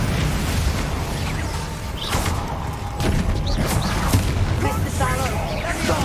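Confringo fire-spell blasts crackle and burst in Hogwarts Legacy amid a dense, continuous wash of combat noise, with a few sharper impacts and voices in the mix.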